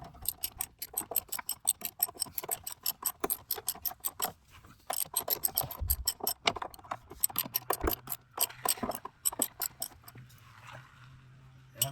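A ratchet wrench tightens the sway bar bushings on a 1991 Firebird, giving a steady run of rapid, close clicking strokes with short pauses, joined by a low hum near the end.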